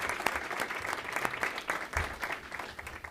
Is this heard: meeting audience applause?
yes